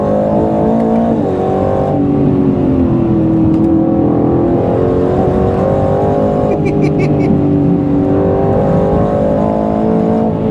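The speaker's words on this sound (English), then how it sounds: "Yes, rapid gear changes with each pull of the paddle" A 2025 Aston Martin Vantage engine pulls hard with quick paddle-shift gear changes, its loud, close note rising and briefly stepping down between gears, while a voice talks over it throughout.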